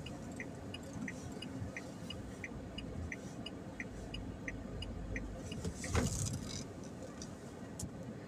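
A car drives along a city street in Tychy with a steady low road and engine rumble. A soft, regular ticking repeats throughout, like a turn indicator, and a brief louder noise passes around the sixth second.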